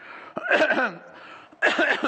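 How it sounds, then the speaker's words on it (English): Two harsh, throaty coughs close by, the second after a short pause, each with a rough voiced rasp. "Coughing away like that."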